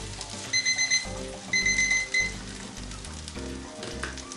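A kitchen cooking timer rings out in two clear bursts of rapid high beeping while Caribbean lamb pelau cooks on a stove, with soft cooking noise continuing underneath.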